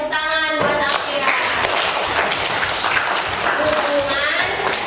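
A group in a classroom claps together for a student, a dense patter of hands lasting several seconds, with a voice briefly heard at the start.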